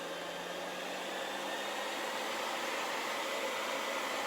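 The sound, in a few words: high power hairdryer running on medium heat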